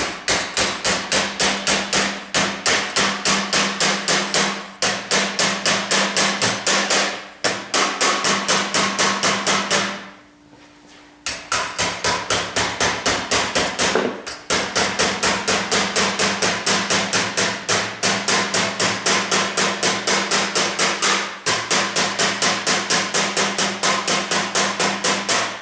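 A hammer strikes sheet metal, forming the upper windshield channel for a four-place Bearhawk aircraft, in fast, loud, relentless blows that run for about ten seconds, pause for a moment, then resume at the same rapid rhythm.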